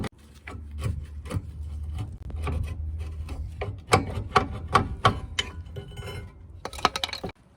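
Rear brake caliper of a Mitsubishi ASX worked back and forth by hand to free it, giving a run of close, dry scraping and clicking metal knocks with several sharper taps toward the end, no talk.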